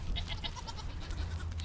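A goat bleats repeatedly in a pasture with baby goats, the wavering, nasal cries close and fairly loud over a low steady rumble, with no talking.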